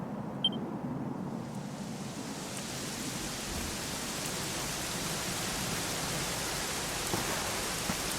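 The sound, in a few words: rain in video game Dragon Quest XI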